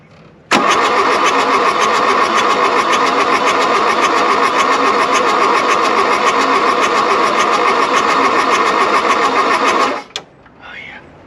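A badly wrecked car's engine, its glow plugs warmed first, cranks and catches at once, then roars loudly and steadily for about ten seconds before cutting off abruptly, with faint voices after.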